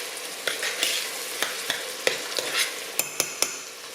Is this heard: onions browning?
yes